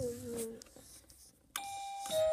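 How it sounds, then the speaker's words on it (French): A Playmobil toy house doorbell rings with two electronic chimes, one early and one later, with someone speaking briefly in between. "Donc la sonnette."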